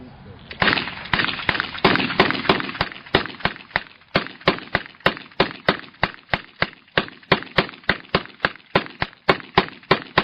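Guns fire on command in a rapid, regular series of sharp, loud reports, around thirty shots in ten seconds at a steady cadence.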